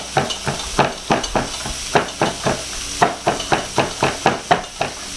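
A knife chops garlic cloves on a board in a quick run of about fifteen sharp, close knocks, evenly spaced at first, then faster and more clustered toward the end, with no talking.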